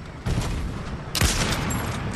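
A gunshot fired in a shooter video game: one loud, sharp blast rising over a steady noisy game background, with a fainter earlier report just before it.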